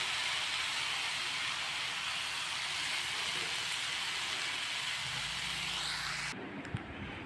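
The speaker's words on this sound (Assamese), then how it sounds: "মাজে মাজে বৰষুণ চলি আছে" Steady hiss of rain falling, broad and continuous, until it cuts off abruptly near the end, leaving a quieter space with a soft knock.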